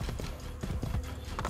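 A horse gallops in Assassin's Creed Brotherhood, a fast, continuous clip-clop of hooves at a brisk rhythm, close and moderately loud amid game ambience.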